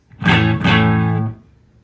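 Electric guitar played through a Joyo Bluejay Bantamp amp, two strummed chords ringing out in quick succession, loud and close, with a slightly driven tone that fades over about a second.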